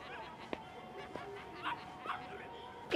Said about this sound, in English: You're a doggy!